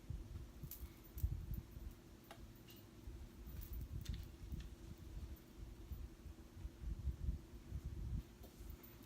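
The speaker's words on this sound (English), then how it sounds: "Sewing those together." A sewing machine stitches the shoulder seams of two fabric dress pieces together, a steady, low, rhythmic mechanical thrumming with faint ticking, close and continuous with no talk.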